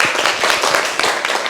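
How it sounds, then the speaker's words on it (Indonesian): A classroom applauding a student named Isa, dense steady clapping from many hands close by, filling the short moment without a voice over it. "tepuk tangan dulu buat Isa"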